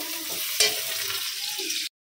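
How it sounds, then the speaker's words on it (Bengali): Sliced bitter gourd, potato and onion fry in a pan, a steady close sizzle with stirring scrapes and a brief louder burst, cutting off abruptly near the end. "উচ্ছে, আলু আর একটু পেঁয়াজ দিয়ে ভাজা করলাম, এই যে ভাজা হচ্ছে"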